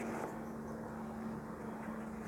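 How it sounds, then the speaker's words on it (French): A helicopter passing overhead gives a steady, continuous rotor and engine drone with a low hum, fairly loud and constant throughout, with no talking. "un hélicoptère qui passe, la vache."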